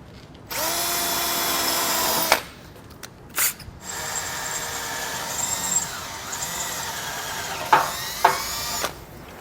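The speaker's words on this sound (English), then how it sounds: "So with our holes drilled out" A power drill bores holes into the frame of a 2017 Chevrolet Sonic, loud whining bursts that rise and fall with brief gaps between them, close by and with no talk.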